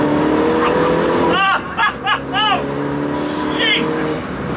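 A forged-engine R56 Mini Challenge road car with about 280 horsepower and no sound deadening revs hard from inside the cabin, a loud, close engine drone with several sharp surging bursts of acceleration, while people talk over it.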